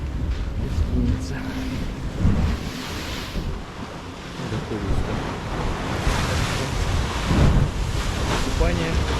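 Sea waves wash continuously onto a beach in Egypt, with heavy wind buffeting the microphone in a steady, loud roar that swells now and then.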